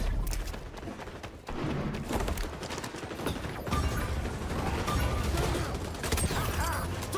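Call of Duty Warzone gunfire crackles as rapid, bursty shots and thuds. It runs loud and dense through the whole stretch, mixed with game effects.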